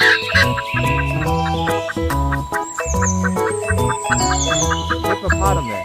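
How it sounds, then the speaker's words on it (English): A hen clucks in rapid, repeated bursts, loud and close, with a busy rhythmic pattern of calls running continuously through the few seconds, and no talking. "hen"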